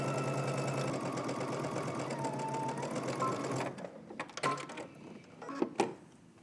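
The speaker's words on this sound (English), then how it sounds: "let's head over to the sewing machine and we're gonna stitch using 5/8 of an inch seam allowance" A sewing machine runs steadily stitching a waistline seam on a wrap dress, a fast continuous mechanical whir that stops partway, followed by a few sharp clicks and handling taps.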